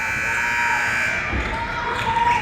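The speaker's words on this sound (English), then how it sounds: "Buzzer sounded for some reason" A buzzer sounds during a women's college basketball game in a gym, a steady electronic tone under crowd noise and live commentary, with a ball bouncing near the end.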